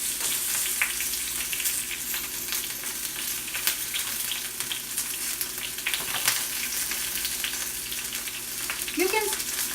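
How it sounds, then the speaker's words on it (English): Oil sizzles and crackles steadily in a hot pan while frying General Tso's chicken, a continuous close frying hiss with small pops. "It is sizzling, guys."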